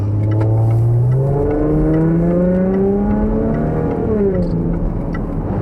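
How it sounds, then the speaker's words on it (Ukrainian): Range Rover Sport engine and exhaust heard from inside, a loud continuous drone that rises through the revs as the car accelerates, shifts, and climbs again, with no talk. "Незвично тільки що шумно, ну, вихлоп."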